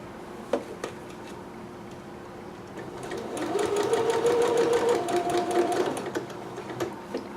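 A sewing machine stitches a McCalls 6701 dress, a close, steady mechanical whir that starts after a few soft clicks and runs for a few seconds before slowing to a stop, with no one talking.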